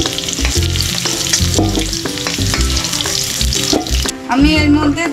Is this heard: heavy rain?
no